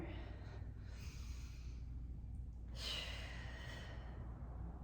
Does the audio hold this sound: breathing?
yes